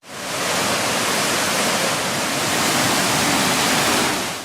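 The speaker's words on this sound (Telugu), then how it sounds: "నాతవరం మండలంలోని తాండవ జలాశయంలోకి భారీగా వరద నీరు చేరుతోంది." Heavy floodwater surges into the Tandava reservoir in Nathavaram mandal, producing a loud, steady, broadband roar of rushing water that holds constant for the whole stretch, with no voices.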